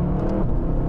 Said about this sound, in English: the engine response is just lovely. And there's so many revs.